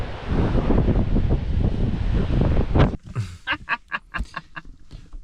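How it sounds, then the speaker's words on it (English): Strong wind at a waterfront campsite on a winter day roars hard against the microphone for a few seconds, then eases into quieter, gusty buffeting with short bursts. "it's very windy here today"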